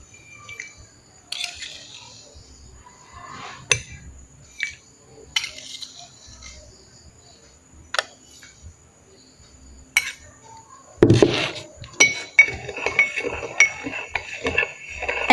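A spoon stirs salt into water in a glass, giving scattered light clinks and taps against the glass, a louder burst of rapid clinking near the end, close by in a quiet room.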